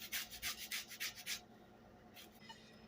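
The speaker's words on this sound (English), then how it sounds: "Now here is the zest of 2 lemons" A zester rasps across the peel of lemons in a home kitchen, giving about seven close, rhythmic scraping strokes followed by a short quieter stretch.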